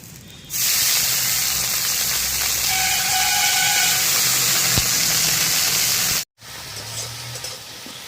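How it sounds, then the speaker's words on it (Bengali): Washed gima greens hit hot oil in a kadai, setting off a loud, steady sizzling hiss that lasts about six seconds, cuts off abruptly, then returns as quieter frying. "গরম তেলের মধ্যে ধুয়ে রাখা ডিমা শাকগুলো"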